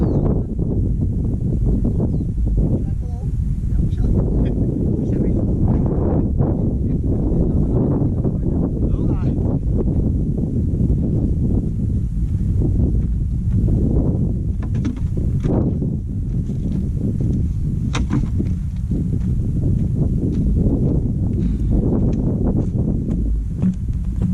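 Strong wind buffets and rumbles across the microphone in heavy gusts, with indistinct voices faintly present beneath the roar.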